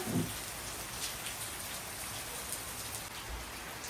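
Monsoon-season rain falls in an even, continuous patter and hiss, quiet and steady throughout with no other sounds standing out.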